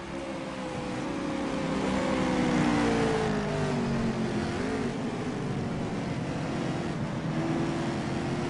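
Race cars drive around the track at Infineon Raceway, a continuous engine roar with shifting pitches as several cars pass, steady and moderately distant.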